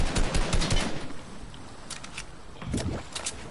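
Fortnite Deathrun gunfire comes in two bursts, a loud rapid volley at the start, a lull, then a second shorter burst of quick shots near the end.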